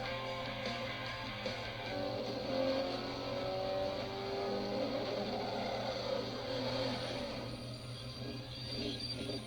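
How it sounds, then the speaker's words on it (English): A motorcycle like the one from Terminator plays back with a steady, droning engine hum that rises and swells slightly in a continuous, moderately distant rumble, no talking over it. "this is the Terminator motorcycle"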